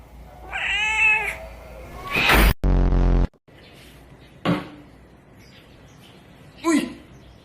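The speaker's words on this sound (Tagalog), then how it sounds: "Ito nga pala yung pusa ko, si Blue." A pet cat meows in a house, with a few short meows spread across the moment between other household noises and a loud burst, fairly close.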